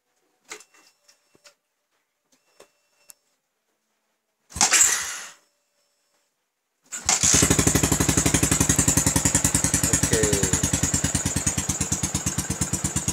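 An old-model Yamaha Vixion fuel-injected motorcycle is tapped a few times, then the engine fires after a short crank and settles into a loud, steady, rapidly pulsing idle close by.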